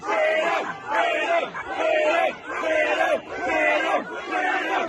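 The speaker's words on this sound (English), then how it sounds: "A number of these protesters chanting freedom." A crowd of protesters chants "freedom" in a rhythmic, repeated call, about five loud bursts in quick succession with short gaps between, outdoors amid a heavy police presence.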